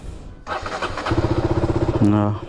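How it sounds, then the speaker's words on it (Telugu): A KTM Duke 200 motorcycle, left under covers for about two months, cranks briefly and then catches, settling into a steady, rhythmic single-cylinder idle up close after a short burst of revving. "ఫస్ట్ చూద్దాం బైక్ స్టార్ట్ అవుతుందో స్టార్ట్ కాదో"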